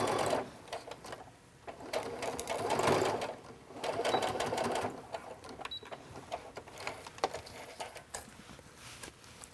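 A sewing machine runs in bursts, its rapid mechanical whirring rising and falling as it stitches down zipper tabs on a waterproof backpack, close by and fairly loud.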